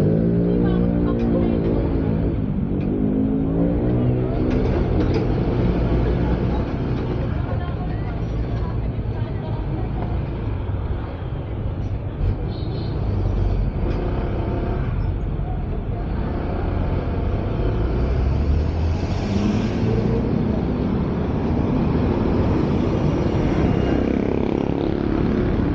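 A Honda ADV 160 scooter engine and muffler drone steadily on a short road ride, with low rumbling exhaust and wind noise throughout and a rider talking over it.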